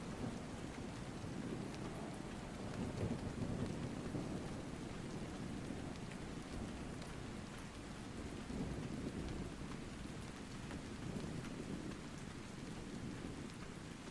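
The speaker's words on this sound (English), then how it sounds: "Maybe the rain's starting to ease up." Steady rain pours down with a low thunder rumble in the video game Ark Survival Ascended, a continuous broadband wash that rolls gently in loudness throughout with no voices.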